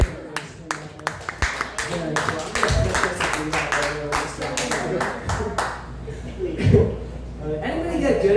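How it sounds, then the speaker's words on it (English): Scattered audience clapping at a comedy showcase, a few sharp distinct claps at first that swell into a brief round of applause with chuckles, with talk and mic noise running underneath. "Everybody clap for those."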